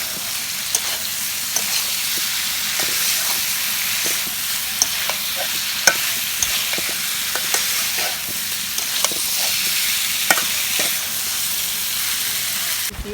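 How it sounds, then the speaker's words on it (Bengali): Raw papaya pieces stir-fry in a pan with ground coriander, a loud, continuous sizzle punctuated by frequent clinks and scrapes of a spatula stirring them throughout. "কষাই নিচ্ছি, পেঁপেগুলা কষাই নিচ্ছি।"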